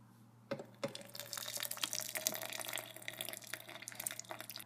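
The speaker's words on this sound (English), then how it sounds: "So we're just going to take this water over to our cup and pour it in." Hot water pours steadily into a cup for hot chocolate, splashing and gurgling for several seconds after a couple of light clinks at the start.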